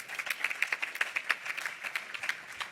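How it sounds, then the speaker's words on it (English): An audience applauds at a university business-school HR advisory board conference, with a sustained crowd of hand claps and sharp individual claps standing out, moderately loud and steady throughout with no talking over it. "give yourselves a round of applause"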